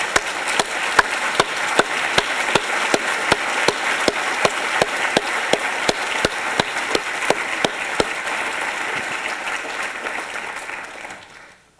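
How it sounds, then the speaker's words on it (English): An audience at a medical school address applauds a man, a dense, even roar of clapping that carries on steadily for about ten seconds before tapering off at the end. "maybe you could just stand up and we can applaud you"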